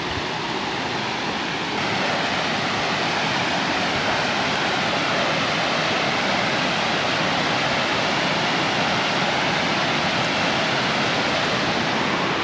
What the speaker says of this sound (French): regardez la cascade